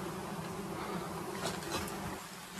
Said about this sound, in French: Il y a des mouches par centaines.